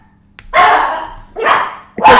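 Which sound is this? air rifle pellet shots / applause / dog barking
dog barking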